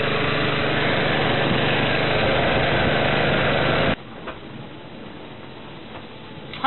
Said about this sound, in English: Dive pump running, refilling our gear.